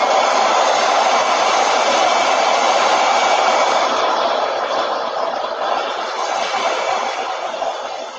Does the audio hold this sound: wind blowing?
no